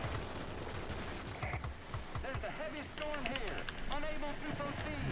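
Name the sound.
aircraft guns firing salvos in World of Warplanes video game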